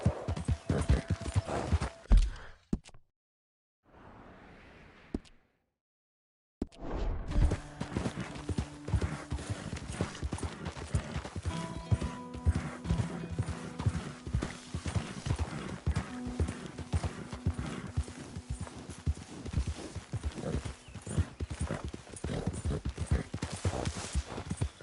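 A horse walks on a hard surface, its hooves clip-clopping in an uneven rhythm close by, with a brief drop to near silence before the steps resume; a faint whinny and some low tonal noise sound underneath.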